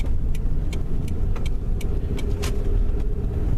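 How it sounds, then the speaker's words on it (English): A Toyota Sienna drives along with a loud rumble of road and engine noise, while sharp, irregular rattles and clicks come from the front right wheel area. "we're having some kind of like a rattling sound here"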